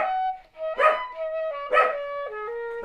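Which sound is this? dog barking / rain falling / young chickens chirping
dog barking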